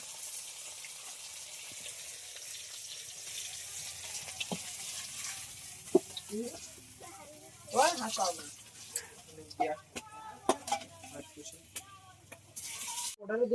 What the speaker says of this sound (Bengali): ভেটকি মাছ ভাজা হচ্ছে